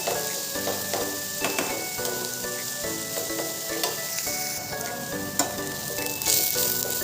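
Onions sizzle steadily in a hot pan, browning for a dish with garlic and dried red chillies, with occasional stirring scrapes and soft music underneath.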